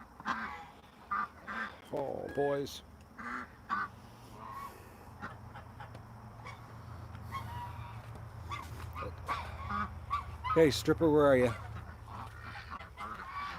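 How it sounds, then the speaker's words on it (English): Geese honk in scattered bursts, some close and loud, amid other barnyard fowl and a possible dog bark, while a person speaks intermittently between the calls. "Oh, geese, come back from the..."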